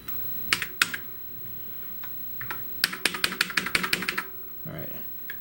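Keys clatter on a 1984 Commodore SX64 keyboard, first as a few isolated clicks and then as a fast burst of close, sharp keystrokes. Brief rustling follows.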